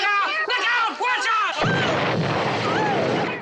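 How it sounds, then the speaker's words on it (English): A film explosion as fire runs along spilled gasoline, a sudden loud broadband boom cutting in after excited shouting voices and rumbling on for a couple of seconds. "the fire goes along the gasoline and creates another explosion"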